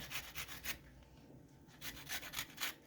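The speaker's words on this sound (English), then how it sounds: "I'm just gonna take that little grater and I'm going to grate some lemon zest into my mix here." Lemon zest grated on a small hand grater, quick scraping strokes in two bursts of rapid rasping, close and quiet with no talk.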